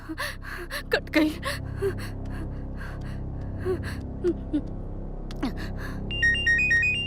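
A telephone ringtone plays near the end as a short electronic melody, after several seconds of breathy gasps and rustling.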